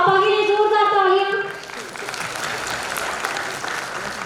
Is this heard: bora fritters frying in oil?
no